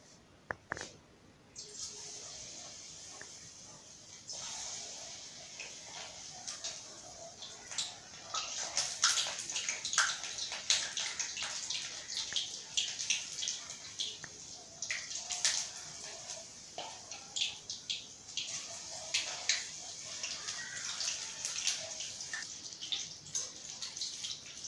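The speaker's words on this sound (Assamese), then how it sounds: "তেলখিনি গৰম হ'ল এতিয়া আমি মাছখিনি ফ্ৰাই কৰিম" Fish pakora pieces frying in hot oil on a medium gas flame, a steady crackling sizzle that builds after a few seconds and keeps popping and spitting close by, with no talk over it.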